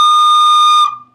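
A penny whistle sounds a single sustained high D, one bright steady pure tone held clearly and alone for most of a second before cutting off.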